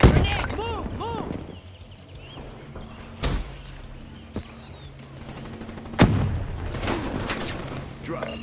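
Frag grenade blast and gunfire in a Call of Duty: Black Ops 3 Domination match, with sharp booms near 3.3 and 6 seconds amid scattered shots, under in-game voice callouts.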